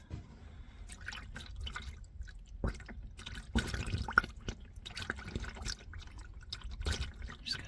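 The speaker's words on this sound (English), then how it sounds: "this oil pan, it has holes in the middle, so the oil can just drain down into the holes." Engine oil drains from a 2016 Ram 1500 5.7L into an oil pan with holes in the middle, making an uneven patter of drips and trickles close by.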